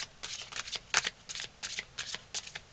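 Tarot cards are shuffled and drawn for a reading: quick bursts of crisp riffling and flicking close by, in irregular clusters with short pauses between them.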